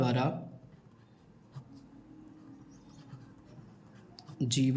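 Handwriting during a class 10 maths lesson gives a soft, continuous scratching, with someone speaking briefly just before and after it.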